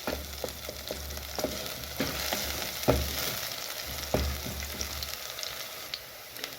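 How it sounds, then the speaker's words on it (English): Onions sizzle steadily in a hot pan, a continuous crackling fry with occasional louder pops and stirring clatter, close and moderately loud. "Continue frying."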